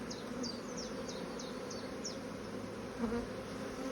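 Honeybees from a strong hive swarm and buzz around an open beehive, a steady dense hum with small wingbeat whines darting past up close, continuous throughout.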